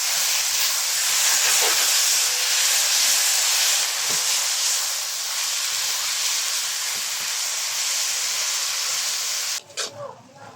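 Grated coconut hits bubbling brown-sugar caramel in a hot pan, setting off a loud, steady sizzling hiss that holds for several seconds before a few clattering stirs at the end.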